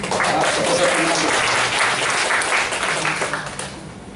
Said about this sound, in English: Let us extend a very warm welcome with a big clap to Professor Fernando.